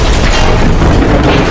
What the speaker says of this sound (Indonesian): mesinnya tiba-tiba meledak